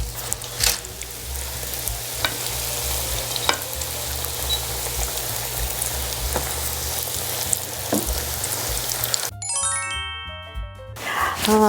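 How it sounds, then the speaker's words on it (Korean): Steady, loud sizzling of arancini deep frying in hot oil, continuous crackle for most of the clip, ending with a few bright chimes. "이렇게 겉표면이 좀 까슬까슬하게 튀기시면 돼요"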